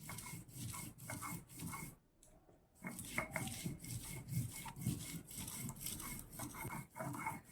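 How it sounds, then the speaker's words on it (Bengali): Ginger is ground by hand into a paste, with close, rhythmic rubbing and scraping strokes repeating about twice a second and one short pause partway through. "এবার আদাটা বেটে নেবো"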